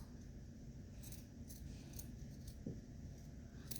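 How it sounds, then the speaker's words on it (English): Scissors snip down the middle of a fuzzy sock in a quiet room, making several faint, crisp cutting sounds spaced about half a second apart against a low background hiss. "we'll just very carefully cut down the middle"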